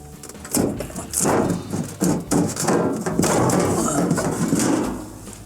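A Whirlpool refrigerator's plastic evaporator cover panel is lifted off at the bottom inside the fresh food section, giving a run of close clunks, scrapes and rattles that go on throughout, with no talking.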